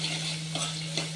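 Garam masala, turmeric and chili powder are stirred in a sambar pan, giving a brief, close sizzle with soft scraping strokes over a steady low kitchen hum.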